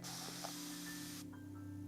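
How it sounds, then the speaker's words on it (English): A handheld plant mister gives off a soft, even hiss of fine continuous spray that cuts off partway through, leaving a quiet room. "They're called facial misters, plant misters."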